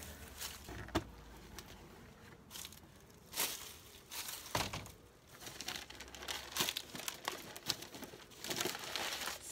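Old paper crumpled and crinkled inside a dead-out beehive, close rustling bursts and tearing crackles coming in irregular clusters with quiet gaps between.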